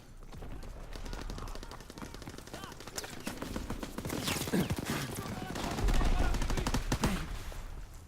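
Rapid M1 rifle fire in the World War II video game Call of Duty, crackling shots scattered through dense battle noise, with someone talking over the gameplay.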